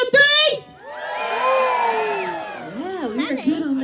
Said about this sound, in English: I want to hear a big, rowdy Blue Mountain cheer